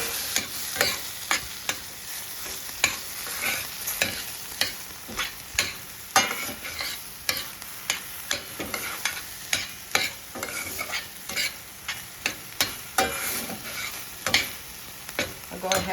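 Ground turkey seasoned with cumin being stirred in a pan for a tortilla bake: a spatula scrapes and clacks in quick repeated strokes over a soft background sizzle, close and fairly quiet, with no talking.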